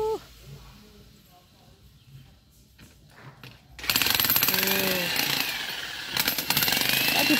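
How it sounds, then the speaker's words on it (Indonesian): A jackhammer drills into concrete ahead of paving work, starting suddenly midway and hammering loud and continuous after a quieter stretch of outdoor background with some talk. "Koyong ini dibor dulu."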